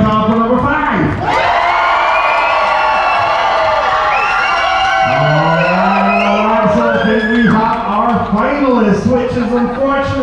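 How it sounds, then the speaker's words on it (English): An audience aboard the cruise ship Vision of the Seas cheers loudly for a dance couple, with sustained shouting and whooping from a close crowd filling the whole stretch, swelling and then tapering toward the end. "Give me a cheer"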